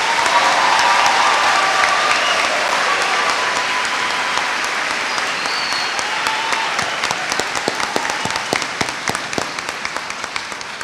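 A high school senior assembly crowd claps for its awardees. Loud, sustained applause fills the hall, then gradually thins into scattered individual claps near the end.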